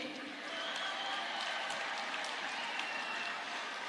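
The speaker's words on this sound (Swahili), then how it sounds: "Mkuu wa mkoa wangu anapiga makofi na yeye yumo" Scattered audience applause at a political gathering, a faint, continuous patter of clapping that holds steady through the whole stretch with no voices standing out.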